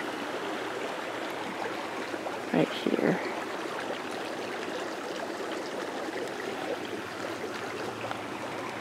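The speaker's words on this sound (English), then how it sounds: "oh, seems like the creek's running." Steady rushing of a running creek fills the scene, a constant watery wash, with someone briefly speaking over it.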